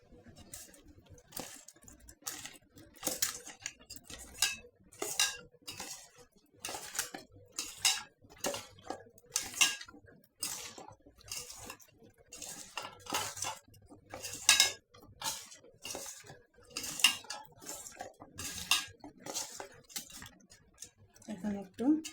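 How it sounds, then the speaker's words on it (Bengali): Prawns, bottle gourd and other ingredients with oil being mixed by hand in a bowl in a home kitchen, giving repeated squelching, clinking handling sounds in an irregular rhythm, fairly close and steady throughout. "এখন এগুলো আমি হাত দিয়ে মাখাই নেব সব একসাথে।"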